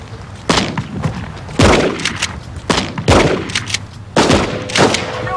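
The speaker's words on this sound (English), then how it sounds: "We were shooting a number of shots, but because of the distance of 125 yards with the shotgun, they weren't having a lot of effect." Shotgun blasts in a police standoff scene from a rescue TV series, four loud booming shots spaced roughly a second apart, each with a sharp crack and rolling echo, fired from about 125 yards away.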